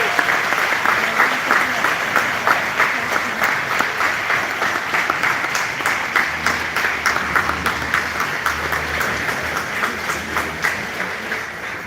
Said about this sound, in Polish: Także dajmy ogromne brawa, proszę bardzo.